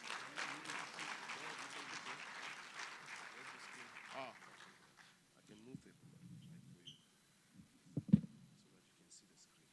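Applause from a conference audience, fairly quiet and somewhat distant, clapping for the first few seconds before thinning out, followed by scattered voices and a sharp knock near the end.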